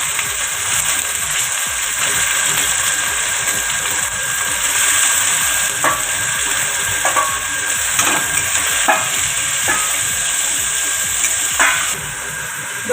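Chicken frying in a wok, a steady, close, loud sizzling hiss broken by intermittent clacks and scrapes from stirring over nearly thirteen seconds.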